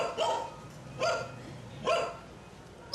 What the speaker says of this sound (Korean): 뚱이가 짖는 게 아니었네요